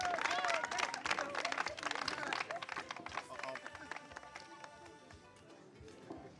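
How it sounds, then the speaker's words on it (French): Studio audience applause on a French-language TV show, a dense burst of clapping that starts loud and gradually fades over several seconds, with a voice briefly audible at the start. "On va l'applaudir."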